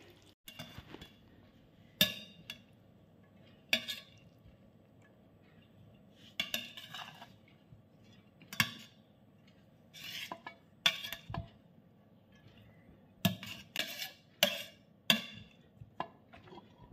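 Cutlery clinking against plates during a meal of chilli chicken and fried rice, scattered sharp metallic taps and scrapes in irregular bursts, close and moderately loud with quiet gaps between.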